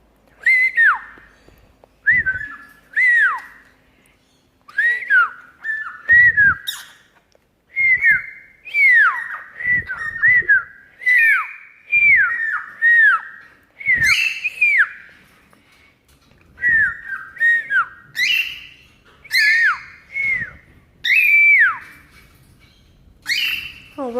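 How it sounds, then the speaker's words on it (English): Pet bird whistling and squawking, a long run of short rising-and-falling whistled phrases broken by harsh squawks, loud and close, with brief pauses between bursts. "Yes, the whistling bird's on."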